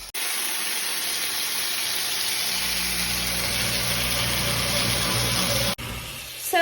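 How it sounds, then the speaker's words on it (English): A Deluxe Cooking Blender runs steadily while blending Alfredo sauce made with a roux and vegetables. It starts as a loud, constant motor whir with a deeper churning hum that builds partway through, then cuts off sharply near the end. "I'm gonna start the blender again"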